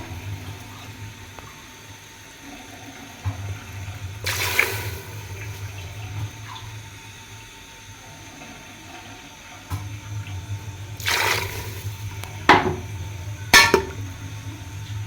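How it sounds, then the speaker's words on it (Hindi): Three glasses of water are poured into a pot of mutton and potatoes in a few short splashing bursts, with quiet pauses and a low background hum between them. "तीन गिलास इस तरह से पानी ऐड कर देंगे।"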